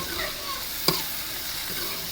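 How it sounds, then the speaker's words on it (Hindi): Steady sizzling of ginger and green chili frying in hot oil in a wok, with a brief sharp clink of a utensil against the pan partway through. "ये अदरक और ग्रीन मिर्च का अब मैं तड़का भून रही हूँ"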